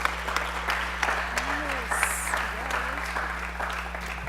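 An audience at the afternoon plenary of a social justice forum applauds. The clapping is dense and steady throughout, with a few sharper claps standing out over a faint electrical hum.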